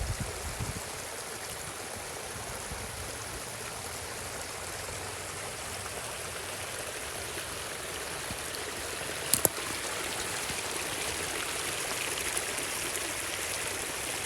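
Steady rushing of stream water flowing through a farm during a heavy rainstorm, a continuous broadband wash with a brief sharp knock near the end, no talking.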